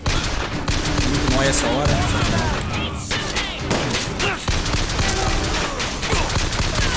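Gunfire from first-person combat in the video game Bioshock Infinite, a steady barrage of loud shots and impacts running throughout, with someone talking over the action.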